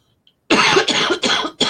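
A run of four harsh, close coughs in quick succession after a brief silence, loud and raspy with no talking.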